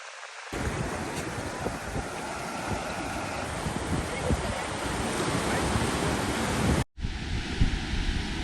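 Steady roar of ocean surf and wind at an Encinitas, California beach, continuous broadband wash with wind buffeting the microphone, loud and close throughout.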